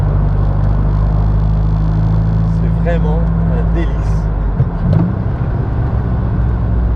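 A Morgan Plus 4 drives along a country road, its engine a steady low rumble and whir close to the microphone throughout, with someone speaking over it.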